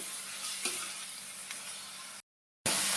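Onion sautéing in a pan with a little salt gives a steady, close sizzle with faint stirring, then cuts to a brief silent gap before the sizzle returns.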